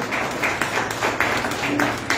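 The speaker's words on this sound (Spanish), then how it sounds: "aplaudan al Señor" A church congregation clapping in praise, a continuous mass of hand claps with a loose rhythmic pulse, moderately loud and close, with faint voices mixed in.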